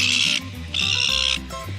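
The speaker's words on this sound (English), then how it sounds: "seagulls" Seagulls on an island give loud, harsh, drawn-out calls close at hand, two long squawks with a shorter one after, each one breaking off abruptly.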